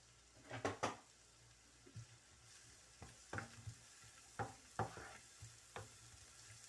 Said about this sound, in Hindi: ये मैंने डाला है 1 प्याज, जिसको मैं सौते करूंगी, और 1 हरी मिर्च